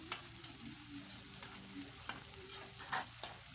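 Cauliflower fries in a pan as it is stirred, a steady sizzle running underneath with several louder scraping strokes of the spoon.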